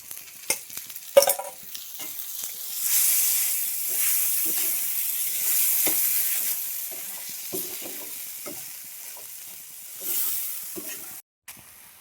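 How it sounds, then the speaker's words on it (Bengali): Garlic and green chillies frying with nigella seeds in hot oil, a continuous bright sizzle and hiss with scattered stirring clicks and scrapes, fairly close. "কালো জিরে ফোড়ন দিলাম, রসুন আর কাঁচা লঙ্কা একটু ভেজে ভেজে নেবো।"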